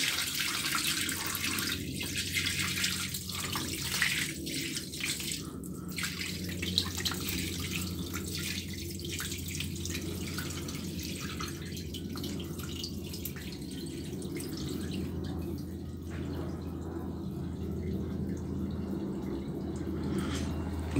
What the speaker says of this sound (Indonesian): Dan kita isi air baru untuk membilasnya.